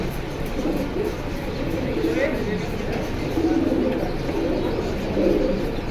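Pigeons kept for sale at a bird market coo repeatedly in a steady low murmur, with faint chirps and background hubbub throughout.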